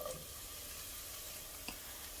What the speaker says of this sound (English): So the first thing I'm going to do is actually saute the mushroom